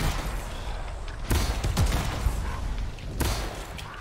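Dense sci-fi gunfire rattles continuously in the video game Anthem, loud and close, with heavy bursts and booms breaking through around the middle and near the end.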